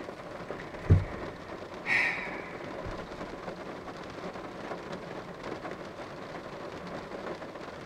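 Steady rain falls outside, a soft continuous wash of drops with a low thump and a brief higher squeak early on, the downpour holding even and fairly close throughout without voices.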